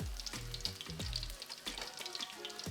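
Hot grease sizzles and crackles steadily as chicken fries, with a few soft clunks of pieces moving in the pan.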